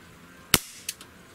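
A Smith & Wesson M29 .44 Magnum-style CO2 BB revolver fires a single sharp, close crack, followed by two quick fainter metallic ticks as the shot settles, in an otherwise quiet setting.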